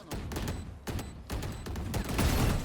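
Rapid gunshots crack in short bursts in a Valorant match, several sharp reports spread across a few seconds at moderate volume.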